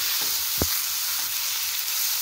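Vegetables for a paneer frankie sizzle steadily in a hot pan, a soft continuous hiss with one brief louder clatter of stirring near the start, no voices over it.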